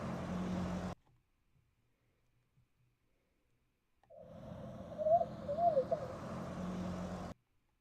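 Synthesized bird calls from a sound puzzle in the Nancy Drew video game Albii in Ashes: one short burst, a pause of silence, then a longer steady passage with warbling chirps over a droning game tone, fairly close and clear, with no talking.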